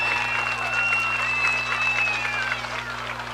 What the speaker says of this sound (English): one more round of applause for these beautiful young ladies